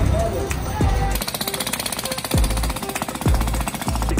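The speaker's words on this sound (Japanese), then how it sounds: "道の工事がすごくて" Jackhammer pounding at road construction on a city street in Quetzaltenango, Guatemala, a loud, rapid rattling burst repeated in stretches amid street traffic noise.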